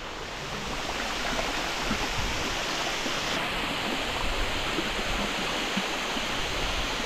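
Constant broadband roar of a giant waterfall pouring into a shaded swimming hole among she-oaks along a remote river, heard close and steady with no pauses.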